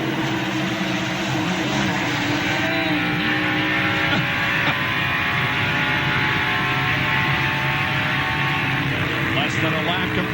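A NASCAR stock car at the 1996 Southern 500 pulls away from a pit stop, its engine roaring and rising under a continuous wash of race noise while a commentator talks over it.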